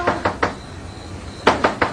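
A door is knocked on in two quick bursts of three sharp raps each, separated by a short pause, close and loud.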